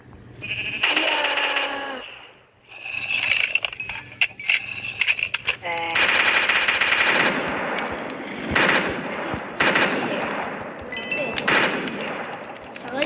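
Bursts of rapid gunfire and sharp shots from modded Minecraft mixed with bleating animal cries, zombies and electronic effects, with talking throughout.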